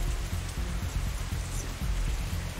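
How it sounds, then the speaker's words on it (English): Steady rain in the visual novel Katawa Shoujo, a dense continuous hiss of falling water over a low rumbling bed, loud and unbroken throughout. "It isn't even raining that hard anymore."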